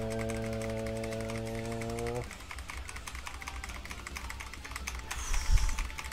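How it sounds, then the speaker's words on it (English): Fingers tap rapidly on a computer keyboard, giving a steady stream of light, close clicks that follows a brief sustained tone at the start. "I was basically typing a series of one words."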